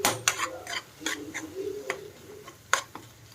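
Vegetables with turmeric, salt, garam masala and chili powder frying in a pan as a spoon stirs, giving irregular scraping clinks over a soft sizzle.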